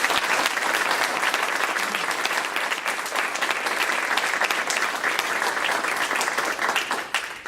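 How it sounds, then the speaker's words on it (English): Loud, sustained audience applause fills a community board full meeting, a dense wash of many hands clapping steadily throughout without a break. "Give him a big round of applause."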